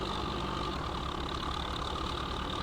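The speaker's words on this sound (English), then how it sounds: "I love this tractor. This thing's amazing." Tractor engine idling in Farming Simulator 15, a steady low rumbling drone held evenly at moderate volume throughout, with no talking.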